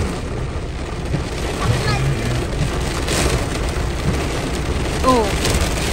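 Heavy, flooding rain pours down in the UK, a dense steady roar of hiss that fills the scene, with a few brief voices faintly audible under it.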